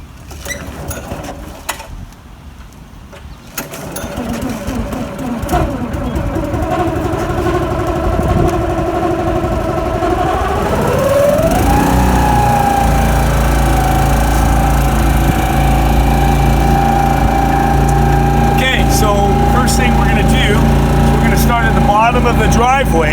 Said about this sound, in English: I'm just going to go ahead and start up my Honda motor to start the pump.